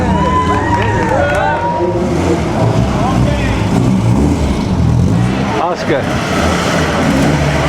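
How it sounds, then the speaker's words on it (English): A historic Ferrari drives past at the 2007 Mille Miglia road race, its engine loud and close amid a noisy crowd, with voices talking over the passing car throughout. "here comes this very historic Ferrari."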